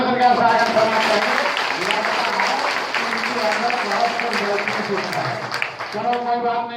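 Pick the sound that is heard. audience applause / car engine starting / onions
audience applause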